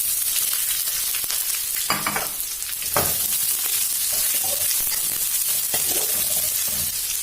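Chopped garlic and onion stir-frying in a hot pan for kimchi Mama noodles, a steady close sizzle broken by several scraping strokes of a spatula, with no voices.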